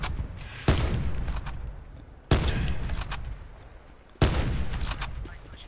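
Video game gunfire: three separate bursts of shots, each a sharp loud onset that trails off over about a second and a half, spaced a couple of seconds apart, with no talk over them.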